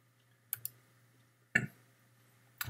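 A computer mouse clicks quietly in a still room: a quick double click, then a single click and another near the end, each sharp and brief.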